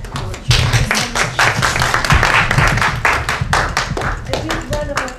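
Audience applause for a pastor at a foundation event, dense close clapping that starts abruptly and holds steady, with voices mixed in.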